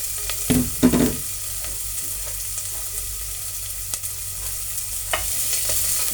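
Onions, garlic and ginger hiss and crackle in hot oil in a pan, with a few sharp utensil clacks near the start, then a steady close sizzle with no voices.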